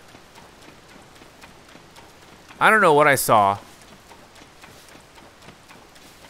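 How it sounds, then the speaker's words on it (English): Heavy rain in The Legend of Zelda: Tears of the Kingdom, a steady dense hiss of in-game downpour running throughout, briefly overlaid by a voice speaking around the middle. "It's raining really heavy."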